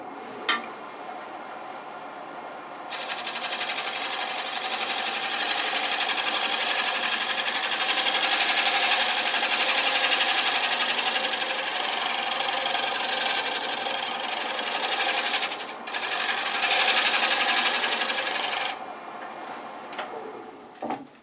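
Shear scraping wood on a lathe, with a steady broadband hiss and whir of the tool shaving the spinning wood lasting about fifteen seconds, close and loud, with brief dips where the cut eases.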